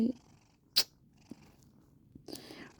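A cat purring briefly at close range, soft and intermittent, broken by a few sharp clicks and short noises.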